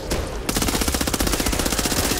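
Rapid automatic gunfire from a gun in the video game Back 4 Blood, a dense, steady stream of loud shots after a brief lead-in, with no talking.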